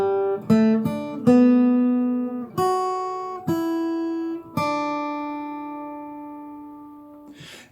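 A fingerstyle acoustic guitar picks the underlying melody of a Randy Newman When I'm Gone arrangement, single notes plucked one after another with uneven spacing, some ringing long, close and without voices.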